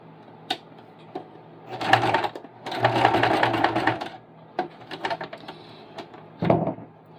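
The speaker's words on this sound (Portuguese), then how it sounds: "baixa a agulha para começar a dar os primeiros pontinhos com retrocesso, que é para prender esse elástico" Sewing machine running in several bursts of stitching as elastic is sewn onto fabric for a cloth doll, with short pauses and clicks between runs, close and clear with no talking.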